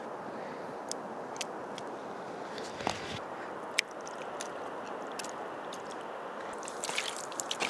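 Hands work fish pieces into a curd and masala marinade, giving a steady wet squishing and kneading sound with small slaps and clicks throughout, close and fairly quiet.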